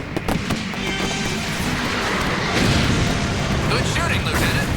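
Booming explosions and blasts from a Robotech anime battle, heavy, loud and continuous, with crackling bursts and shouted voices mixed into the din.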